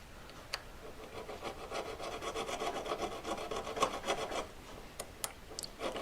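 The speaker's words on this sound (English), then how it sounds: "So just filing straight down, going up and down." Steady hand filing on a V claw, a brittle workpiece worked with strokes straight up and down, giving a continuous close rasping scrape with a few sharper clicks, no speech.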